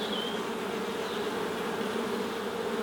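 Honeybees buzz steadily and densely around an open hive full of capped brood, a close continuous drone with an occasional single bee whining past.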